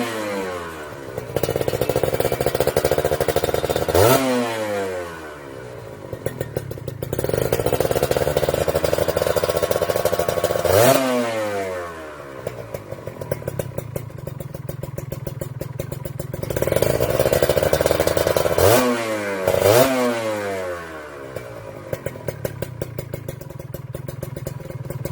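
A Kawasaki Ninja two-stroke racing exhaust, repacked with cheap glass wool, revs repeatedly, rising to a crisp, raspy scream and then dropping back to a crackly idle. It is loud and close, with no talking.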